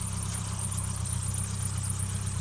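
A Ford Capri engine idles steadily and close up, with a slightly noisy whine around the water pump sitting over the low, even rumble.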